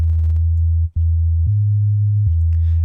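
A low, steady sine wave tone run through the FL Studio 12 Fruity Chorus delay hums loudly, briefly cutting out once and shifting in pitch twice, with faint clicks at each change.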